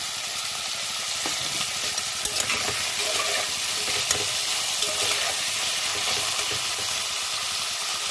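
Spices frying in a pan with very little oil while being stirred, a steady close sizzle with frequent scraping and clinks of a spatula, no voices.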